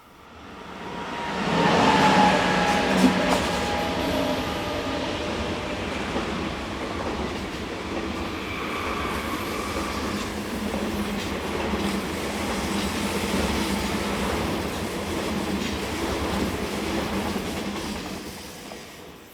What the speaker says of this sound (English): a pair of Class 502 sets are passed by a Class 450 train set heading in the opposite direction